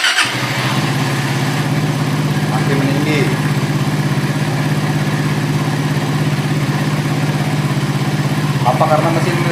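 A Suzuki GSX R150 motorcycle with a warm engine idles steadily and loudly after throttle body service, a continuous low rumble with someone talking over it.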